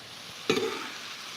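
A brief sizzle of apples frying in a pan, a soft crackling hiss that flares up once and then fades, heard close and alone.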